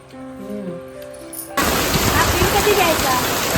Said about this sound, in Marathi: मस्त गावाला विपरीत पाऊस पडतोय